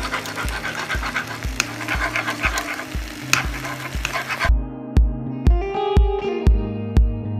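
An egg sizzles loudly in a hot pan for pad thai while a utensil stirs and scrapes, with a steady thumping pulse running underneath; the frying noise drops off partway through, leaving the rhythmic beat.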